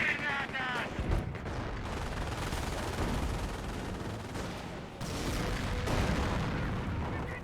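Distant rattling machine gun bursts and booming artillery fill a World War II video game battle for France, a dense continuous barrage with sharper bursts near the start and middle, under a commentator's talk.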